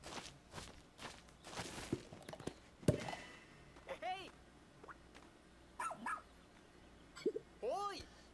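A rescue pup in the Pikmin 4 video game digs and barks, with soft thumps and scuffs of digging broken by several sharp, clear barks spread across the moment.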